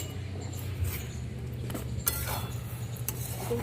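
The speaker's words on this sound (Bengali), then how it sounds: "এবার ঢাকনাটা খুলে দেখে নেব" A glass lid is lifted off a pot of pulao cooking on the stove. A few soft clinks and a light clatter of glass on metal are heard close up over a low simmering hiss, with no speech.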